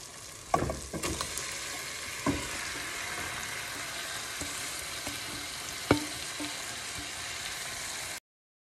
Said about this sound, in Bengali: এবার আমি চিকেনটা এর মধ্যে দিয়ে দেবো